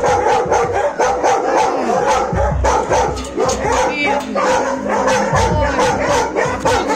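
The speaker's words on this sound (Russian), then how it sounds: "Лает." A Yakut dog barks repeatedly in sharp bursts outdoors at close range, with occasional yips mixed in, while people talk nearby over the barking.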